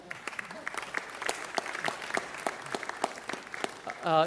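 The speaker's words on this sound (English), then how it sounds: "Give him a round of applause." Applause from a crowd at a city council meeting, steady clapping throughout, with a voice rising briefly over it near the end.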